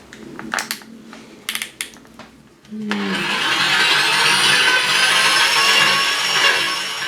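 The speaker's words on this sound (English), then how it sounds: "Just get the drill and clean those 2 through first stage" Clicking, tapping handling noises give way to a loud, steady whine of a power drill running continuously, close by, drilling out damaged threaded holes for a Time-Sert thread repair, with no talking.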